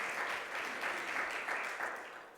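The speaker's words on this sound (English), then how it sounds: "Mr. Mouch, let's give him a round of applause" An audience claps at an awards ceremony, a short burst of steady, fairly faint applause that tapers off at the end.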